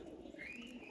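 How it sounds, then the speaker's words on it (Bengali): Khaki pigeons coo softly in Old Dhaka, a single brief low call close by with faint background hum. "মাস্টার কবুতর এক কথা মাস্টার খাকি কবুতর দেখছেন"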